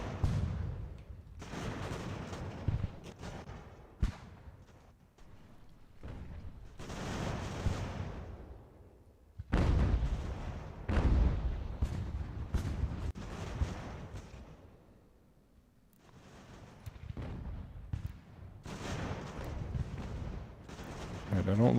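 Artillery and musket fire in Ultimate General: American Revolution, with repeated crackling volleys and heavy booms coming in waves, swelling and fading over a continuous battle din.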